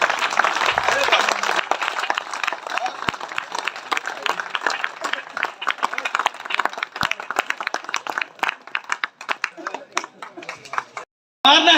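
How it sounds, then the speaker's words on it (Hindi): A crowd at a Hindi poetry gathering, an all-India kavi sammelan at the Nisan Kavya Mahotsav 2022, gives loud, dense, sustained applause that thins toward the end and stops abruptly. "जोरदार 2 मिनट खड़े होकर तालियां बजाइए।"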